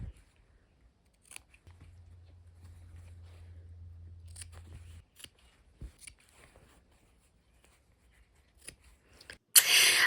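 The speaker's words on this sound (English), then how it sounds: "we're going to go ahead and clip the corners now" Scissors snip the corners of quilt fabric pieces in a quiet room, giving a handful of sharp, separate clicks and crunches spread out over time, with a low steady hum in the middle stretch and a louder rustle at the very end.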